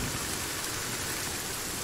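Steady rain in the survival video game Sons of the Forest, a continuous even hiss of falling water at moderate loudness with no voices.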